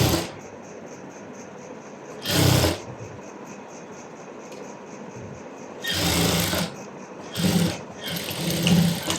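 A sewing machine runs steadily while stitching a blouse side seam, with a continuous whirring hum and a few louder bursts of faster stitching or handling noise.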